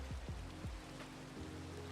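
Steady rain falling in a Minecraft-style video game, a continuous soft hiss of drops throughout with a few low descending swoops and tones from the game layered over it.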